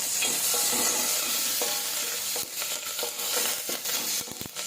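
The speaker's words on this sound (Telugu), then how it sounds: "బాగా వేగనివ్వండి, బాగా ఎగితే బాగుంటుంది. బ్రౌన్ రంగు వచ్చేలాగా వేగండి." Dried red chillies, curry leaves, mustard seeds and cumin frying in hot oil, a loud dense crackling sizzle that eases slightly later and is cut by a few sharp pops and stirring scrapes, heard close with no talking.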